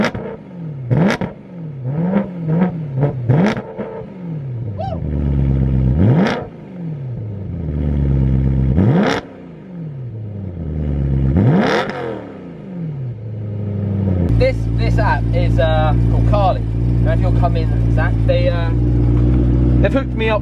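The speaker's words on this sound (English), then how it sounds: "so I'm gonna give it a little rev." A warm BMW with a new flat-pipe exhaust is revved in several sharp blips, each rising and falling, before settling into a steady, loud rumble near the tailpipe.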